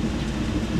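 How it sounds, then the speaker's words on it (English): Thunder rolls during a days-long storm, a faint low distant rumble with a rain-like hiss, brief and alone. "If you hear that thunder,"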